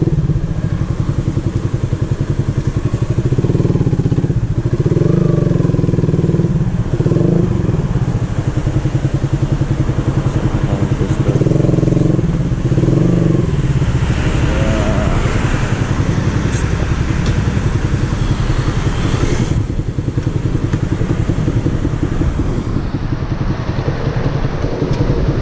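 A Suzuki Sniper motorcycle with an Akrapovic exhaust idles steadily and loudly up close, a deep continuous rumble with slight pulsing throughout.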